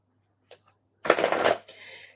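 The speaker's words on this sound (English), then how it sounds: "One more shuffle." Tarot cards shuffled by hand, a short riffle followed by a softer ruffling as the deck settles, close and clear against near silence.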